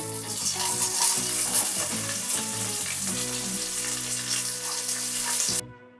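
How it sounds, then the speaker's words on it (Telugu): Onions sizzling in hot oil with bay leaf for mutton pulao, a loud steady frying hiss with stirring clatter throughout, cutting off abruptly at the end. "బిర్యానీ ఆకు ఇవన్నీ లైట్గా వేగేటప్పుడే ఆనియన్స్ కూడా వేసేసుకోవాలండి ఆనియన్స్ వేసేసుకుంటున్నాం"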